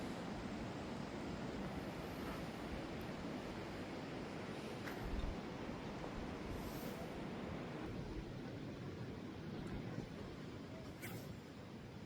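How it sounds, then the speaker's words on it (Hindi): River flowing near a village where tourists sit on the bank, a steady broadband rushing wash of water filling the scene continuously and evenly, with no talk over it. "जो नदी की आवाज़ आ रही है वो बहुत ही कानों को अच्छी लग रही है"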